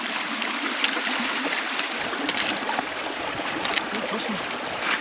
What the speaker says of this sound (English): Nice splashing, Kev.